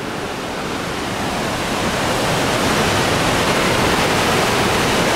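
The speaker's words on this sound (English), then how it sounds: "the waterfall is somewhere down that way if you can hear it" Twin Falls waterfall along a hiking trail gives a steady, dense roaring rush of water, loud and continuous and swelling slightly, with no voices.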